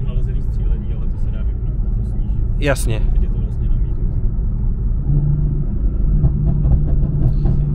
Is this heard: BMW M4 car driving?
yes